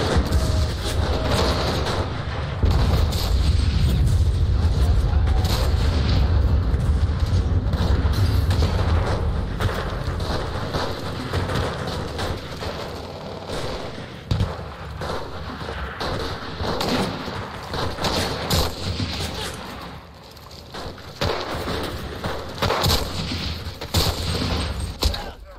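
Gunfire and explosions in the World War II shooter Enlisted on the Chateau du Bosq map, dense rifle and machine-gun bursts over heavy booming artillery, near and loud, continuous and layered with scattered sharp single shots.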